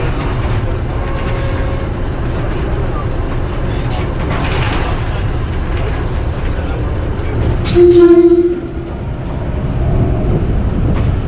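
Inside an AC Standard coach of the Mehar Express passenger train, a loud, steady rumble and rattle continues as the train approaches Muzaffargarh station on a loop line, with a short squeal or horn-like tone near the end.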